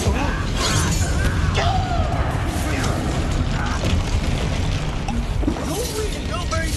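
A fire spell cast in Hogwarts Legacy, heard as a crackling, roaring burst of game effects amid dense battle clatter and booms, with a voice speaking over the continuous loud din.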